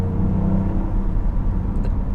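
Toyota GR Yaris engine giving a steady, loud low rumble with a faint whir on top, close and continuous with no talk over it.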